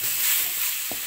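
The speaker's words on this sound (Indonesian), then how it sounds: "Nih, kita aduk aja terus." Seasoned arem-arem filling stirred in a hot frying pan, giving a steady close sizzle with a brief scraping stir.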